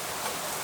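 Rain falling steadily outdoors, a dense even hiss with no breaks and no voices.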